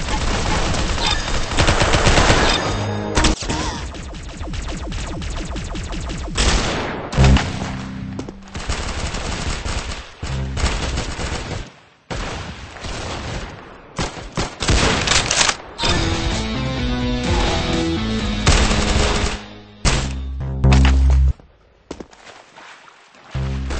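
Gunfire in the Roblox-style shooter game Arsenal: loud, dense bursts of rapid automatic fire and single shots, broken by brief pauses, close and dominant throughout with no talking.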